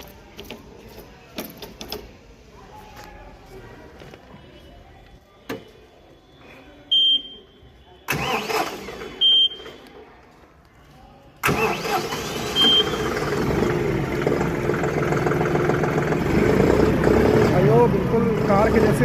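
A John Deere 5310 4x4 tractor engine cranks with a few clicks and starter bursts, catches abruptly, and settles into a steady, loud, close diesel idle that runs continuously to the end.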